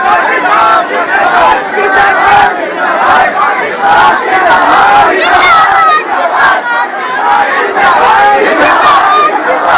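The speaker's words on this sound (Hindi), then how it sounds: "भीड़ में से कुछ युवकों ने पहले देश विरोधी नारे लगाए, फिर पाकिस्तान जिंदाबाद के भी नारे लगाए।" A large crowd at a Muharram gathering chants slogans loudly and continuously in unison, with shouting voices layered in a dense outdoor roar.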